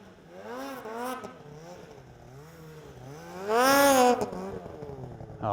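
A snowmobile, just pulled upright after getting stuck in snow, has its throttle cleared and rides off. The engine revs in rising and falling sweeps, then swells into a loud surge as it pulls away.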